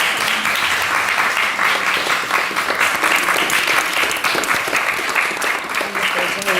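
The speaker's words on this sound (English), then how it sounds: "Shall we give a big round of applause?" Conference audience at a closing roundtable breaking into sustained applause, dense clapping filling the room steadily from start to end.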